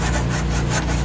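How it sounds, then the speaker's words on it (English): Sandpaper scrubs tar off car rims during a mobile detailing job, a steady, close, continuous rasping rub that holds level throughout with no pauses and no talking. "take my sandpaper and pretty much just scrub"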